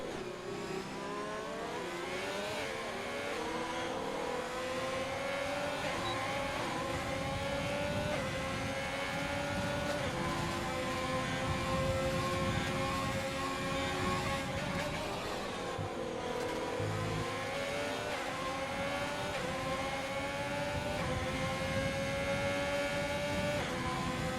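Formula 1 race cars in a racing video game at the Australian circuit, engines whining at high pitch with rising and falling gear-change sweeps, a steady loud drone with no gaps for nearly the whole stretch.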